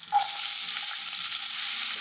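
Chopped onions sauté in hot ghee in a pan, giving a loud, steady, close sizzle with faint stirring scrapes that lasts throughout.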